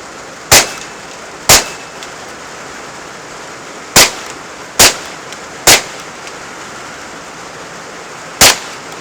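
Six sharp, loud cracks from a Marlin Model 60 rifle fired at cans, evenly spaced reports about a second apart with short decays over faint background hiss.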